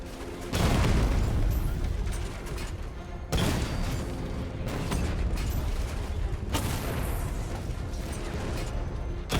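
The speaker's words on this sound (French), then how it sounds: "Votre canon 60 mm va perforer ces unités blindées" 60 mm cannon firing on armored units in the Batman: Arkham Knight video game: loud, heavy booming blasts, three main shots several seconds apart, each followed by a sustained rumbling roar.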